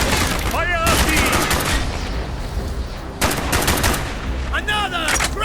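Dense bursts of automatic gunfire and rapid shots in a Call of Duty: Black Ops battle, loud and continuous, with shouted voices and chirping radio-like sounds mixed in.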